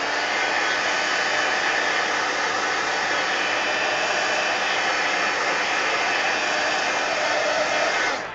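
A hair dryer blows steadily over a mixed media collage art card, a loud continuous whooshing roar that holds evenly for about eight seconds and then cuts off, with no talking.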